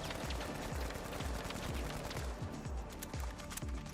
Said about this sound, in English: we can also compare the hipfire, but it does the exact same pattern, just with bloom added to the shots